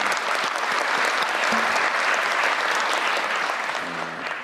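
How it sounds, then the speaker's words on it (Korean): Officials at a government ministry work briefing burst into sustained applause, loud dense clapping from a roomful of people that holds steady, with a faint voice near the end. "박수 한번 감사합니다."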